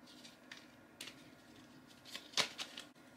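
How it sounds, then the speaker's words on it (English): A deck of playing cards is shuffled in a few short, crisp riffling bursts, close by and fairly quiet, with brief gaps between them. "Shuffling them up now."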